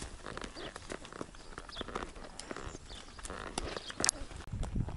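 A horse walking on a pasture, hooves clip-clopping in a steady uneven rhythm, close and moderately quiet amid outdoor rustling.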